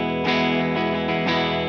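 A Gibson Les Paul Signature electric guitar with its impedance switch at the 50 ohm setting, played through both pickups in the middle position, rings out in sustained, loud, slightly distorted chords with several fresh strums.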